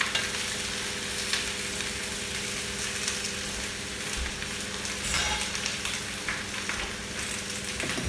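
Tomatoes, onions and peppers frying in olive oil in a pan, a dense continuous sizzle with crackling spatters and a couple of brief stirring knocks, close and steady without speech.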